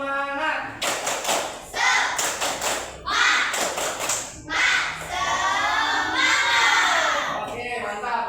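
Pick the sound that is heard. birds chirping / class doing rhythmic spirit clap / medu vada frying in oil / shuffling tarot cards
class doing rhythmic spirit clap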